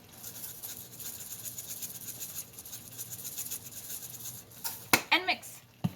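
Ravioli filling seasoned with paprika and red chili flakes is stirred and scraped steadily in a bowl, a continuous soft rubbing texture close by, with a few louder clinks near the end.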